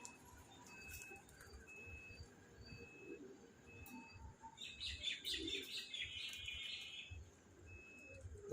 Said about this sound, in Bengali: ডাকাটা সেই না পায়রার।